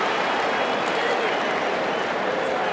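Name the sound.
standing ovation from the Seattle baseball crowd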